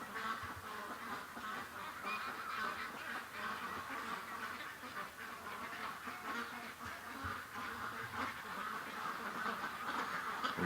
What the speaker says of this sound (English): And the ducks are getting louder.